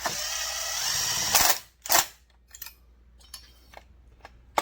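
Bolts on a Husqvarna 372 XP chainsaw cylinder being snugged down with a power driver, giving a close whirring run that ends in a couple of sharp bursts, followed by faint clicks and light tool handling.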